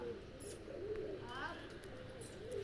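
Pigeons coo softly in low rolling calls while chickpeas are scattered for them, with a few faint chirps overhead and people talking nearby.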